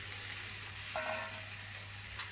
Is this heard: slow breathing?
no